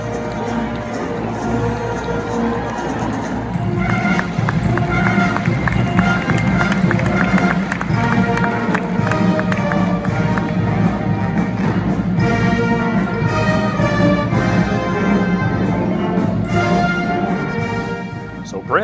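An arena audience at a military tattoo cheers steadily for competing teams during a rifle-firing race, a sustained crowd roar that stays dense and loud throughout.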